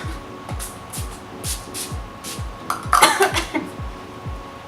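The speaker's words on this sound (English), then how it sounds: "now I am taking the Wet n Wild Photo Focus Matte Finish Setting Spray" A short hiss of Wet n Wild Photo Focus Matte Finish setting spray bursts close by onto a face for about a second, standing out against a faint repeating low thump in the background.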